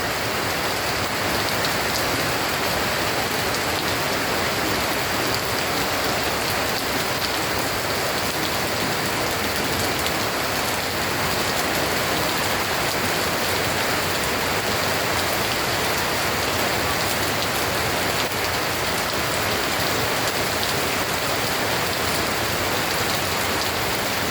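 Sudden heavy rain pours down on a farm, a dense, loud and constant hiss of drops drumming on surfaces with no letup and no talking.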